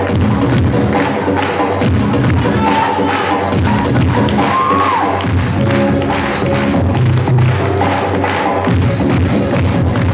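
An audience at a business seminar in Madhubani claps and cheers in a dense, steady burst that fills the room, loud and continuous with scattered shouts mixed in.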